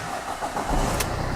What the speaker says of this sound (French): Ça va faire un bruit de tracteur parce qu'il y a une manche d'air que j'ai pas remise.